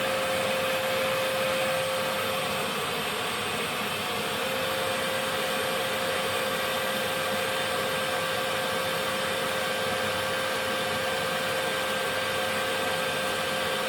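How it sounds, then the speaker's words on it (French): A small vacuum cleaner runs at maximum power, a steady, loud, unbroken whooshing roar that holds evenly throughout, close by with no talking. "Après, on va allumer le petit aspirateur. Donc là, je l'ai réglé au max."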